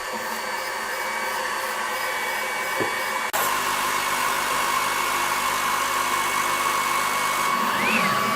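ACMER P2 33W diode laser cutting pallet wood, heard as a loud, continuous fan-like whoosh and hum from the machine, which steps up abruptly partway through and keeps going steadily.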